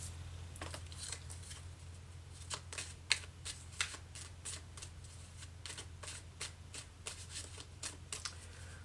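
Wizard's Tarot cards are shuffled by hand in close, crisp bursts of riffling and sliding, repeated in an uneven rhythm with no one talking.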